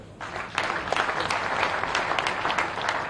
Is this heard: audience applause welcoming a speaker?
yes